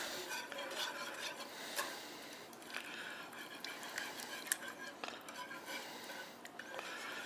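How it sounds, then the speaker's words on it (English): A cream sauce for a shrimp and crawfish topping is whisked in a pan over high heat, giving a steady scraping, clinking stir with light sizzle that carries evenly throughout at a fairly quiet level. "Let's get us a whisk. Let's go back to our cream sauce."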